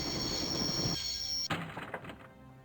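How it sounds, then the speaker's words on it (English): A train coming to a stop in the video game Broken Sword: a high steady whine and rumble cut off by a sharp clunk, followed by a few rattling, settling knocks as the carriages halt. "always wanted to stop a train, and now was my chance."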